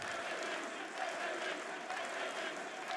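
An esports arena crowd at a Rainbow Six Siege major claps and cheers, a dense, steady wash of applause that fills the room with no break.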